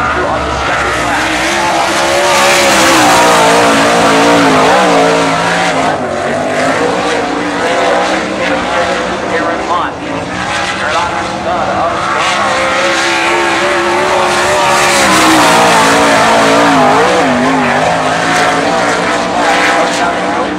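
Sprint cars roar around a dirt oval during night qualifying at the Eastbay Winter Nationals, engine noise loud and continuous with rising and falling pitch as they power through the turns, with no talk.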